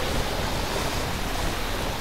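Water spring in Lightyear Frontier: a steady, even rush of flowing water, close and unbroken, heard alone without talk.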